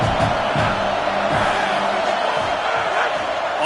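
A packed football stadium crowd roars and cheers steadily during a college game against Ohio State, a loud, continuous wall of voices with scattered whoops, and a commentator's voice faint beneath it.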